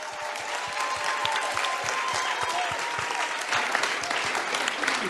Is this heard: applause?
yes